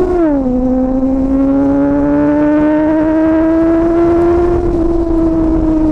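A 250cc motorcycle engine screams at high revs, the shrill tone dipping briefly and then climbing slowly and steadily for six seconds, loud and close with no talking.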